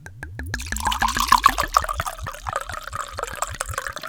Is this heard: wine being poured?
yes